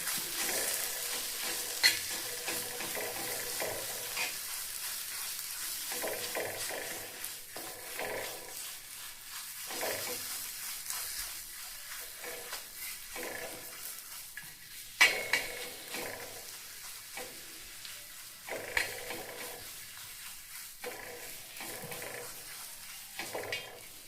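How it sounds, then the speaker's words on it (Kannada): Red chillies frying in hot oil for a North Karnataka red chilli chutney, a steady soft sizzle broken by repeated scraping stirs of a spatula against the pan, close up with no talking. "ಈಗ ಇದನ್ನು ಎಣ್ಣೆ ಒಳಗೆ ಒಂದು 2 ನಿಮಿಷ ಹುರ್ಕೊಳ್ಳೋಣ್ರಿ"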